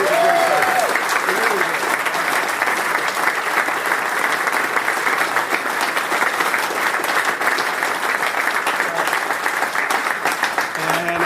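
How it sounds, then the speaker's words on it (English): A theater audience applauds a stage crew, dense, sustained clapping from a large crowd lasting the whole stretch at an even level, with a few voices faintly audible underneath. "So let's give them all a big round of applause."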